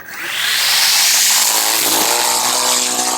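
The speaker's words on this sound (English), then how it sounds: "So as I do this, the weed eater and the string trimmer naturally wants to pull me forward" A string trimmer (weed eater) is cutting. It revs up quickly and then holds a loud, close, high-pitched whine with a buzzing edge, steady for a few seconds.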